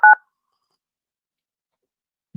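A single short dual-tone telephone keypad beep sounds while call-in phone lines are set up, followed by silence and a faint low thump at the end.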